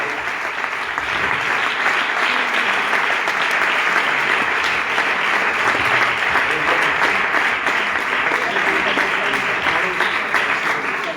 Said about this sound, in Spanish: le honramos con este aplauso para la gloria y la alabanza de su santo nombre